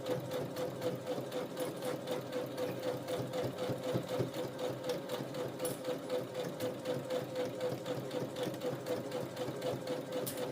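Brother CS7000X sewing machine stitching a bucket hat, a fast continuous rhythmic needle clatter and motor hum, close and unbroken throughout.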